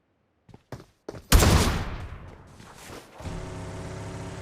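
A loud close-range sniper shot from an AMR rifle in the mobile battle-royale game BGMI, one sharp blast with a short rumbling decay, after a few faint clicks and before steady in-game background noise.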